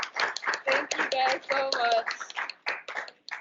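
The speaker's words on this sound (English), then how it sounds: "Let's give them a round of applause." Applause for alumni panelists at an AAPI alumni panel: scattered, light clapping running beneath a person speaking, close and fairly soft, fading near the end.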